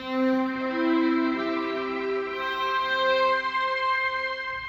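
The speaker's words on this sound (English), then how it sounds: "I'm also using a big reverb effect in that movement at certain points" A sustained instrumental tone wrapped in a big, self-programmed tuned reverb, with layered ringing harmonics that hang and blend into a dense, lingering wash.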